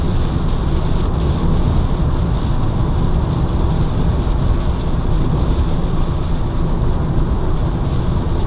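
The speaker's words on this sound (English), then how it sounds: "Wiper's doing a great job clearing all this spray." Heavy rain and road spray beat on the windscreen of a Peugeot Partner 1.6 HDi van driving at nearly 70 mph, a loud, dense, unbroken hiss and drumming under a low engine and road rumble.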